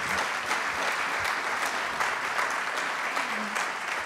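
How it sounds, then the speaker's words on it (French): A conference audience claps in steady, continuous applause after a talk on straw construction, filling the room evenly for about four seconds with no voices over it. "On peut l'applaudir."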